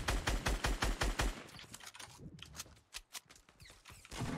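Rapid automatic gunfire in a Fortnite match, a tight burst of evenly spaced loud shots followed by scattered, sharper single shots and brief pauses.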